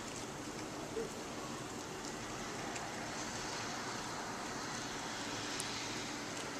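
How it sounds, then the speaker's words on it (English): Steady, faint pitter-patter of rain falling outdoors with distant car traffic and stadium ambience beneath, a continuous soft hiss without voices. "It's the pitter-patter of rain."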